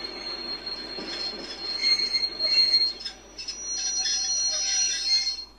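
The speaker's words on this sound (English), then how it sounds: "After 3 days, the train stops." A train slows to a stop with loud, sustained metal wheel squeal, high-pitched tones wavering over the rumble of railway cars for several seconds.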